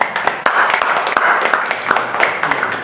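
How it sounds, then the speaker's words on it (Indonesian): A group claps in a brisk scattered patter, with voices murmuring underneath. "Marilah kita tepuk tangan untuk diri kita sendiri."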